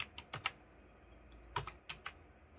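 Keys tapped on a computer keyboard while entering a captcha on a login page, a dozen or so quick, close clicks in two short bursts separated by a pause.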